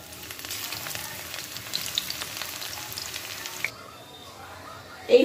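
Cabbage pakoras fry in hot oil with a steady, crackling sizzle close by that drops off sharply partway through, followed by a brief clatter at the end.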